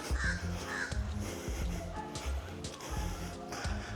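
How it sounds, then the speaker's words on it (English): Crows caw in the background along a rural path in Jamaica, two rough calls early on that are faint and far off, under nearby footsteps and shuffling. "And I can hear like some birds, you know, cawing in the background."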